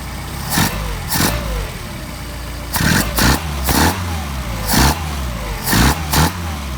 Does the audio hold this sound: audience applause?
no